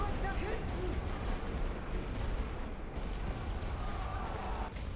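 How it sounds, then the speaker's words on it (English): An artillery barrage in the World War I strategy game The Great War: Western Front, a continuous rumbling roll of distant and near shell impacts with scattered sharper bursts, while someone talks over it. "he's dropping artillery on his own guys right now"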